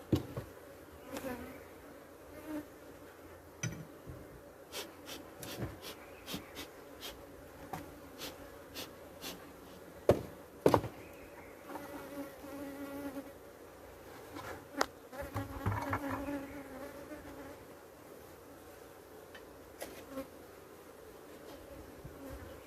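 Honeybees buzz steadily around hive colonies in an apiary, the drone sitting low and continuous while sharper close passes and brief knocks break through now and then.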